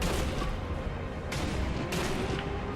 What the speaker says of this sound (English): Another nice little long shot coming up through the nose